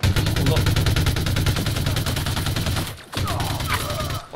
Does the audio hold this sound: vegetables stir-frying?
no